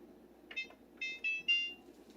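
A kitchen timer being set for cooking gives several short high beeps in quick succession, faint and close, over a low background hum.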